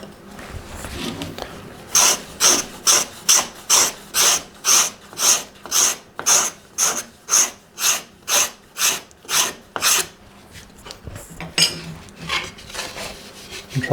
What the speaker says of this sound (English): we can go with a scraper too